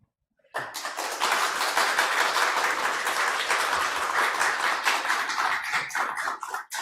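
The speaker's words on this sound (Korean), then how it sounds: "교수님 나오실 때 큰 박수로 환영해 주시면 좋겠습니다" A church winter retreat audience bursts into loud, sustained applause to welcome a visiting professor, clapping starting abruptly after a brief silence and continuing strongly for about six seconds.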